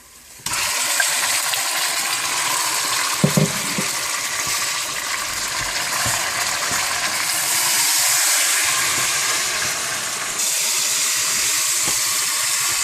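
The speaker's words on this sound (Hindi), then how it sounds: "ये प्याज ब्राउन हो गए हैं, अब इसमें हम कीमा डाल लेंगे" Minced meat goes into a pan of browned onions and fries with a steady, loud hissing sizzle, broken by a few scraping knocks of a utensil.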